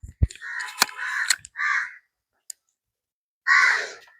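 A crow caws a few times, harsh nasal calls with short gaps between them, plus a couple of sharp clicks.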